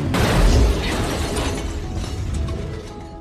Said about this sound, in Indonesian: menembaki mobil Brian hingga gas nos yang ada di dalamnya meledak seketika